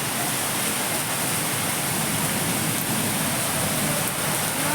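Rain falls steadily outdoors, a loud, even wash of hiss and patter that continues unbroken from start to finish.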